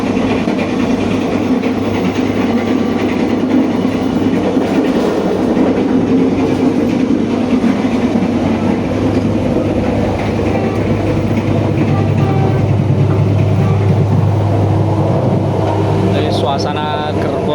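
Steady rumble and rattle inside a moving passenger carriage of the BIAS train from Solo, Indonesia, loud and continuous, with voices talking faintly in the background.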